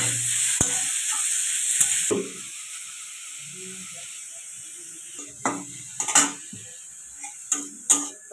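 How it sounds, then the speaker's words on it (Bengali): Bottle gourd frying in ghee in a pan, a broad hiss for the first two seconds, then quieter spells broken by short scraping stirs and clicks near the end. "এই লাউটা একটু ঘি দিয়ে এটা ভেজে দেবো"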